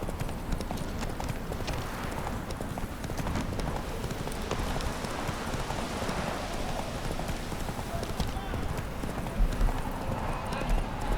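Geralt's horse Roach from The Witcher 3 gallops in a fast, dense, continuous drumming of hooves, close and loud, with rain-like hiss and brief snorts mixed in.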